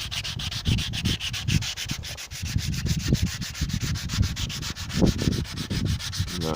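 Hand sanding with 180 grit sandpaper on the rain gutter of a 1948 Buick Special, a close rhythmic scratchy rubbing in repeated back-and-forth strokes, with no talking.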